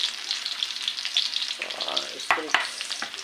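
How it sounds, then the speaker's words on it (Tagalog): Pork strips for pork teriyaki hiss steadily in a hot pan, with a few clacks and scrapes of stirring toward the end, close and continuous. "Tsaka ilagay yung ating karni."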